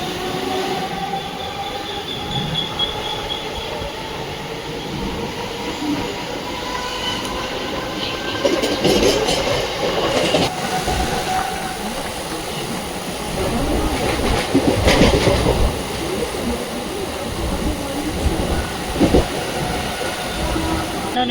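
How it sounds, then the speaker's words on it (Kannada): A Mumbai local train pulls out of Sewri railway station, rumbling steadily with rattling carriages, clacking wheels and occasional metallic squeals, heard from on board, with faint voices in the background. "ಈಗ ನಾವು ಡಿಪಾರ್ಟ್ ಆಗ್ತಾಯಿದ್ದೀವಿ ಶಿವರಿ ರೈಲ್ವೆ ಸ್ಟೇಷನಿಂದ"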